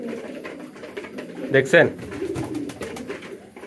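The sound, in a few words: pigeons cooing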